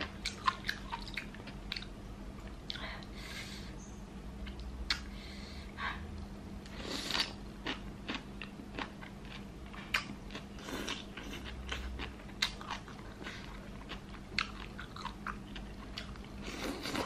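Someone eats malatang with tofu and enoki mushrooms in hot broth, with soft, close chewing and wet smacking clicks repeating irregularly over a quiet background hum, with no talking.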